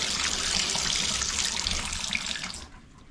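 Water rushes steadily down a bathtub drain whose trap has just been cleared of hair, a close, even hiss that stops near the end, with no talk.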